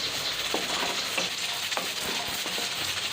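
Masala of tomato and spices fries and sizzles in a pan for sufaid channay while a spoon stirs it with occasional scraping knocks, a continuous close sizzle without any voices.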